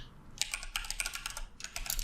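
Quick typing on a computer keyboard while coding a Spring Boot and Angular app, with steady soft key clicks in short bursts, close up and alone.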